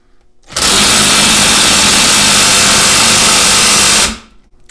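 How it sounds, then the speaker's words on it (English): An impact driver hammers on a bolt extractor in a loud, continuous buzzing burst lasting about four seconds, close by, starting and stopping abruptly. "we've reached the point where the impact driver has stopped turning"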